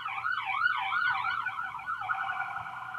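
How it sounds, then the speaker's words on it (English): An ambulance siren outside wails in a steady, fast up-and-down sweep, clear and fairly loud throughout. "And I think we have another ambulance truck coming or something."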